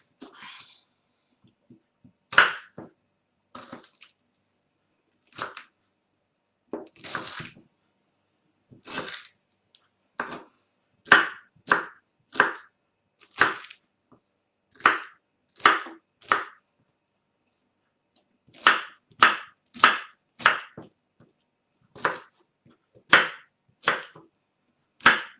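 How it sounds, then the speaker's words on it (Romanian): A knife chops mango and pineapple into cubes on a cutting board, making sharp, crisp thuds at close range in irregular clusters separated by quiet pauses, with no talking. "Și acum o să-l tăiem cu bulețe."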